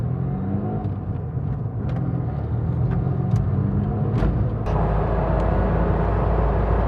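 A Ford Fiesta sports car drives with a constant loud engine rumble and road noise, the tone shifting slightly partway through as it keeps moving.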